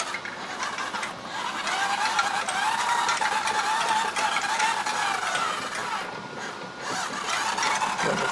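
Motorized auto throttle levers on a Boeing 737 driving themselves, giving a continuous close mechanical whir with a ratcheting, geared grind and a slight rising whine, steady and loud for the whole stretch.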